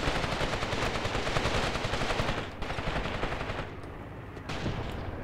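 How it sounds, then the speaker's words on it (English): Machine-gun fire in the Graviteam Tactics war game crackles as dense, rapid bursts. The loud, sustained volleys fade briefly in short gaps, then resume, with no voices. "Oh, the enemy still has machine guns."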